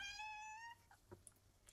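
A cat gives a drawn-out, clearly pitched meow up close, followed by faint scuffling and soft household noises in an otherwise quiet room.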